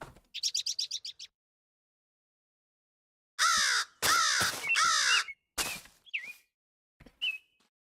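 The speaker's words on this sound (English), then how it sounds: "This bird sound is just so magical." Bird calls in the Minecraft video game: a quick, bright chirping trill comes first. After a silent pause, several loud, harsh caw-like squawks follow, with short whistled calls between them, and no talking.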